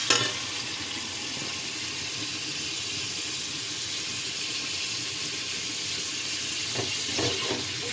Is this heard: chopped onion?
yes